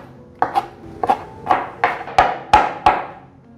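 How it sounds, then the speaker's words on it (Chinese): A knife chops soaked black fungus on a board in about eight firm, evenly spaced strokes, each a close, sharp thud with a short ring, heard alone. "再来把黑木耳切碎"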